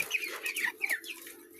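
Young chickens being raised on the ground cluck softly and repeatedly nearby, short chattering calls over a faint steady background hum.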